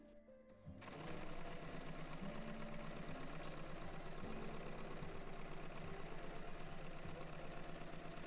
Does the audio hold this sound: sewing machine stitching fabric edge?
yes